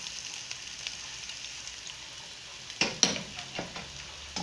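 Sliced onions fry quietly in a pan for a Kerala-style horse gram thoran, a soft steady sizzle that gives way near the end to a few distinct close stirring scrapes and knocks.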